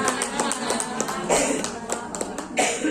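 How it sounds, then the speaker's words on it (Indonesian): An audience at an academic group presentation claps for the presenters, a steady patter of many hands under faint voices in a room. "sekali lagi kita berikan aplaus kepada pemateri kita"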